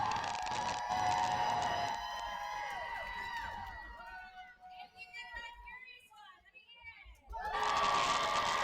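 A roller derby crowd yells and cheers loudly, with children's shrill shouts and whoops rising and falling, then swelling again into a full roar.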